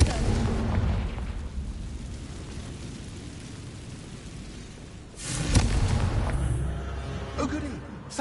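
A Confringo blasting spell explodes in Hogwarts Legacy, a loud booming burst that rolls out over a rumbling game backdrop, with a smaller rumble trailing afterward.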